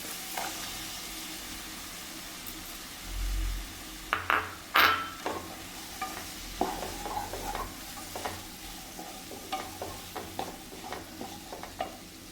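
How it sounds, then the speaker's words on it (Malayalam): Onions sautéing in a pan for chicken curry give a steady, close sizzle, with irregular scraping and clinking from a spoon stirring against the pan throughout, and no voices. "നല്ലവണ്ണം ഒന്ന് വഴറ്റിയിട്ട് നമുക്ക് സവാള ചേർത്ത് കൊടുക്കാം"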